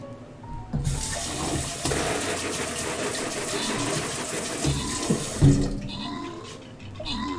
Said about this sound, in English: Quickly cleaning the whisk from the cheese sauce.